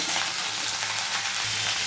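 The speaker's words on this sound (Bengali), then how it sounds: "এবার এটাকে একটু ভালো করে ভেজে নেব।" Steady, loud sizzling of vegetables frying in a hot pan, a continuous crackling hiss with faint stirring scrapes underneath.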